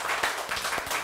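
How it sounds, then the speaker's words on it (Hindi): A studio audience on a Pakistani morning TV show claps together for about a second, a dense, steady patter of hands close to the microphones with no talk over it. "आप सब लोग तालियां बजाएं"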